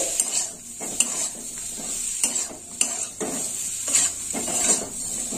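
Grated elephant foot yam frying with red chilli powder in a pan, a steady sizzle broken by repeated sharp scrapes and clanks of a spatula against the metal pan, close and alone.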